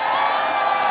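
Loud, close crowd roar at a Hearthstone panel at BlizzCon, a brief, intense burst of cheering and whooping from a packed audience filling the whole moment.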